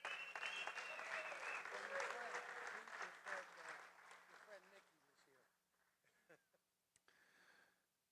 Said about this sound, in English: That is worth a round of applause right there.